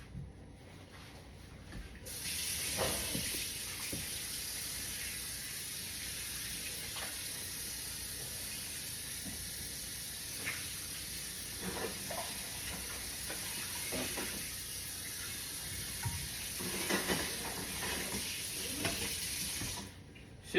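Bacon sizzles steadily in a preheated everyday skillet, a constant bright hiss with scattered small pops and clinks of utensils, close and continuous with no talking.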